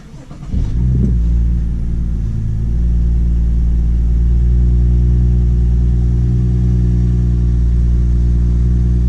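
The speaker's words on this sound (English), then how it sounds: "let's start the car" A BMW GTS tuned with Bootmod3 starts up with a sharp crank and loud flare of revs, then settles into a steady, deep, loud idle rumble that holds for the rest of the clip.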